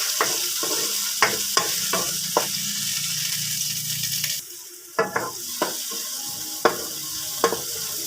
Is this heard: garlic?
yes